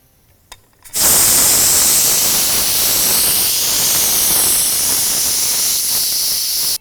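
Pressure cooker on a switched-off stove venting steam in a loud, steady hiss that starts abruptly after a brief quiet moment and holds constant to the end.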